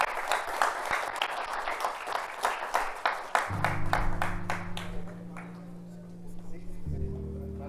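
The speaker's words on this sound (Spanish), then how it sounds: "nuevamente un aplauso" Audience applause at a scientific seminar on electrocatalytic materials, a burst of dense clapping that thins and fades over several seconds, then gives way to a steady low hum and brief talk.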